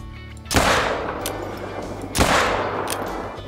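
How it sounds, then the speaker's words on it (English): Two loud rifle shots in the Call of the Wild hunting game, fired from the Rhino at an elk about 50 meters away, each a sharp crack followed by a long rolling echo that decays slowly across open terrain. "Should we go for a Texas heart shot with the rhino?"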